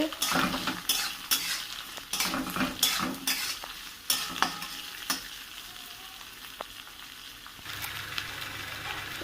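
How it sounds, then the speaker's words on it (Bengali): Onions fry in a pan and are stirred until browned, with rapid close spatula scrapes and clinks over a steady sizzle that settles into a quieter fry near the end. "এবার এটাকে একটু পেঁয়াজটুকে লাল লাল করে ভেজে"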